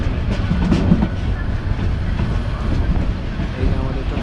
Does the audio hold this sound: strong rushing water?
no